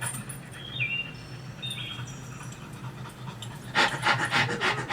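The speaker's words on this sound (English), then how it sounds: "I like it when dogs make that sound." A dog pants in quick, loud, rhythmic breaths close by, with faint bird chirps in the background beforehand.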